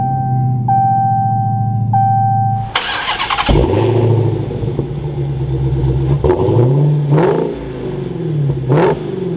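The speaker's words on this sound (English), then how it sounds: "let's fire this back up and take a listen to this V8" A Dodge Challenger SRT Hellcat Redeye V8 cranks over and fires up about a third of the way in after a steady chime tone, settling into a loud, close idle broken by several sharp throttle revs.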